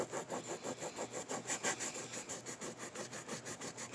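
Tape on a carbon-look Cessna 150 foam model plane is burnished with quick, even back-and-forth rubbing strokes. The close, rhythmic scrubbing continues steadily throughout with no voices.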